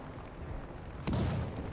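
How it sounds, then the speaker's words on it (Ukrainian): A single deep, booming tank gunshot in the video game War Thunder bursts out over a low rumbling background, followed by a short rolling echo. "Ой, хтось по нас стріляв."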